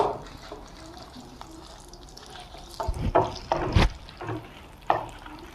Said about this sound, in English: So let us fry the red chilies.